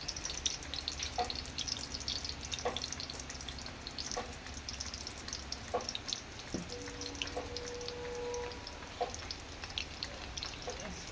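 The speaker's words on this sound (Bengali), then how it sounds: "বাকিগুলো আমি এইভাবে ভেজে নেব" Singara fry in hot oil, a steady close sizzle and bubbling with scattered crackles and a few light clinks of a utensil against the pan, no talk.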